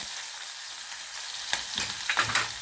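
Chopped onion with cumin, mustard seeds, curry leaves and asafoetida sizzles steadily in a hot pan, with a few scraping stirs near the end; there is no talking.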